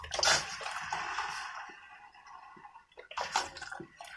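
Water poured into a cooking pot in a home kitchen while preparing fara, a gushing, splashing pour that rises and then tapers off, followed by another short splash near the end.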